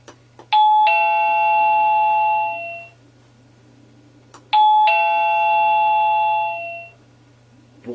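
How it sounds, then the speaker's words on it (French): An OxyLED D01 wireless doorbell plays its bright chime twice, each clear melodic sequence ringing out and fading, over a low steady hum. "On appuie sur la sonnette."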